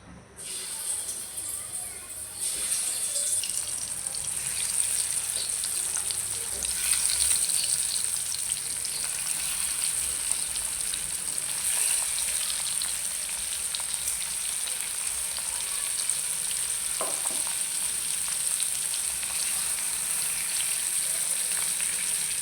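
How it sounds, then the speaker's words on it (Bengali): Shing fish fry in hot oil in a wok with a loud, continuous sizzle and crackle that builds after the first couple of seconds and holds steady throughout, with occasional sharper spits. "এক কড়াইতে আমি শিং মাছগুলো ভেজে দিব"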